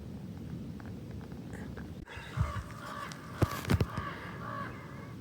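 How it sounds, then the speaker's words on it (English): Harsh squawks and caws of baby birds in a nest high in a slot canyon come in short bursts over steady outdoor background noise, moderately distant and fairly faint. "I think I can hear the baby squawking."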